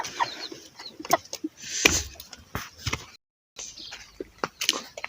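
Gurk hen clucking and squawking nearby with her chicks in short irregular bursts, with soft rustling and a brief silent gap partway through.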